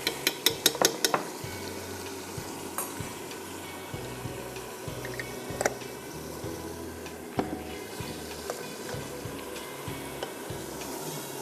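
Ginger garlic paste and chopped tomatoes fry in a pot with a steady low sizzle. A quick flurry of sharp spoon clinks against the metal opens it, then scattered stirring taps follow, with no talking.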